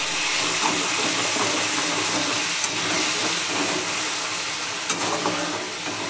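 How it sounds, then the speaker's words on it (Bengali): Onion paste with bay leaf frying in a pan, a steady loud hissing sizzle that holds throughout, with a couple of faint clinks of a spoon. "পেঁয়াজটাকে ভালো করে ভেজে নেব"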